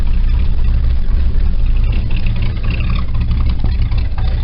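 A classic car engine from a 1972 Chevy or 1968 Cadillac idles low on choke after a cold start, a steady loud rumble with a fine rapid pulse running throughout, close by and alone with no talk.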